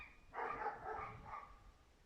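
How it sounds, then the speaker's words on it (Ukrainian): Several dogs bark and yap at a distance, a busy overlapping cluster of barks that rises and fades over a couple of seconds. "О, дивіться, скільки собак"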